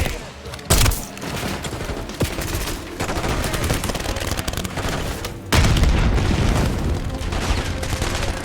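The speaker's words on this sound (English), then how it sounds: "Throwing grenade." Grenade going off during a Call of Duty: Black Ops 6 campaign firefight, a loud sharp boom near the start and another heavy blast later, over constant rattling gunfire throughout.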